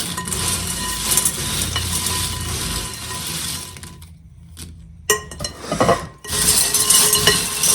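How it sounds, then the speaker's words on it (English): Christmas snack mix with M&Ms tossed and stirred in a bowl, a close, dense rattling and rustling that stops briefly midway and then resumes loudly. "So we're going to give that a good mix."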